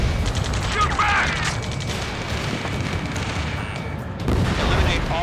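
Battle gunfire and explosions from the jet combat game Ace Combat 7 during a rescue mission: dense, rapid shooting mixed with booms, loud throughout and building again near the end, with voices calling out over it.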